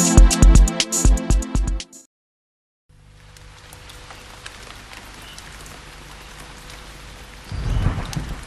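Steady rain falls alone for several seconds after a brief burst of loud musical notes and a short pause, swelling into a heavier rumbling wash near the end.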